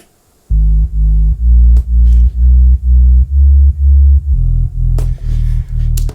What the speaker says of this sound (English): is from our Moog, the sub fatty, which we use a lot. Sounds like this.